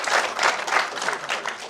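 Audience applause at a wedding, a full crowd clapping in swelling pulses, close and continuous for a short burst with faint voices mixed in.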